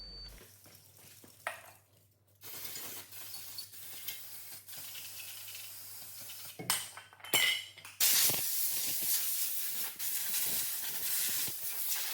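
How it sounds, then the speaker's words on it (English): Aerosol brake cleaner sprayed onto car brake parts on a VW EOS, a faint hiss at first, then a louder continuous spraying hiss that runs steadily to the end, with a few clinks along the way. "You'll have to use some brake cleaner"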